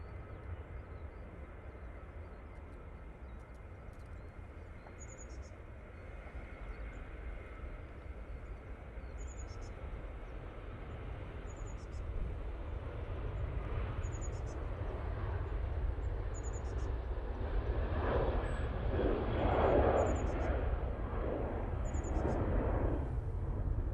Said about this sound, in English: Ryanair 737-800 now on the roll.